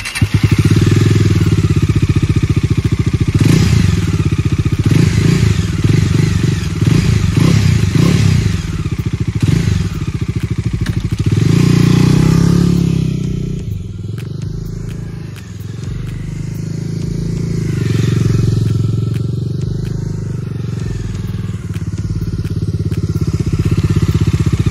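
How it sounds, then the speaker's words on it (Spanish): A Bajaj Dominar 250 motorcycle engine runs loudly, revving and rumbling as it rides off, with a few clattering thumps and the sound fading and returning. "vamos a escuchar qué tal suena la moto."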